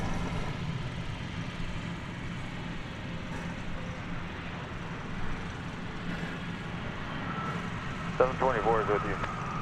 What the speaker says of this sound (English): there's the discordant sound of a 777